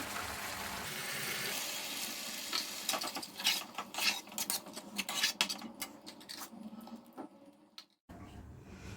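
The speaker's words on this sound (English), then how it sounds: "Add a little bit of water." Water goes into a pan of rohu fish kalia, giving a stretch of bubbling, crackling sizzle with irregular pops and clicks that thins out toward the end before a quieter steady hiss.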